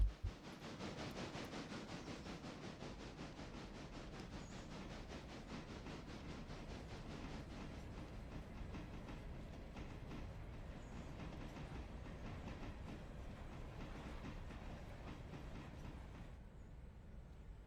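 Train rolling on rails in the railroad video game Railroader, a steady rumble with rhythmic clickety-clack and a hissing wash, continuous and fairly close throughout, no voices.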